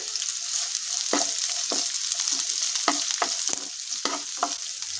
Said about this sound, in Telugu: ఉల్లిపాయ ముక్కలు వేస్తారు దారగా ఫ్రై చేసుకోవాలి